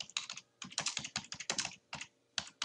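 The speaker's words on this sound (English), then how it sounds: "So you can go here and type in" Rapid typing on a computer keyboard, close and clear, with bursts of quick key clicks broken by short pauses and no talking over it.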